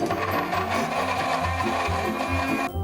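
Blender whirring as it purees boiled chestnuts with milk, a loud, steady motor drone with a churning rhythm that cuts off abruptly near the end.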